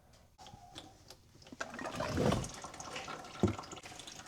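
Fluid being poured into the rear differential of a 2024 Honda CR-V, a quiet liquid trickle and glug that swells in the middle with a couple of soft knocks, no talking.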